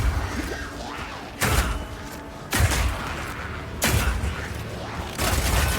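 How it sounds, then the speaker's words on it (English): Sniper rifle shots firing armor-piercing ammo in Path of Exile 2, four heavy booming cracks spaced about a second apart, each trailing into a rumbling decay, loud and close. "This one works just like a classic sniper rifle. Use it with armor-piercing ammo and it will penetrate armor on targets"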